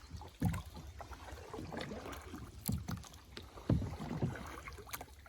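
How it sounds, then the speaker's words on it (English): Canoe paddles dip and pull through lake water on a family trip, a few soft splashes and swishes at an uneven rhythm, close but quiet, with no one talking. "Can I try to paddle this alone?"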